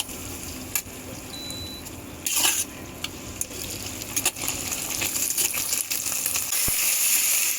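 Red chili being stirred in a hot pan for a chili soybean dish: a low sizzle under repeated scraping and clinking of a utensil against metal, with sharper bursts of stirring and frying that grows louder toward the end.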